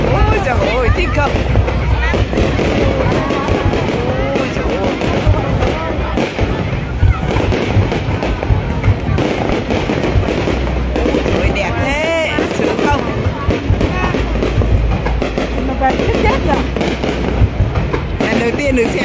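New Year 2024 fireworks display in Ninh Binh, Vietnam, with dense overlapping bursts and crackling pops filling the air continuously, loud and close, while a crowd chatters and people exclaim underneath throughout.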